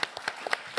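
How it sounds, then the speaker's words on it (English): A few scattered hand claps from a conference audience at a blockchain panel, a brief, sparse burst of separate claps rather than a full ovation. "So please make it a clap."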